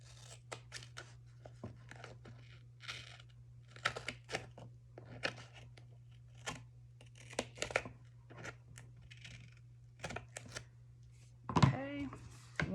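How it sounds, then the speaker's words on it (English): Repeated crisp snipping and crinkling of paper-like material, irregular and close, over a low steady hum, with a louder rustle near the end. "take my scissors and just cut"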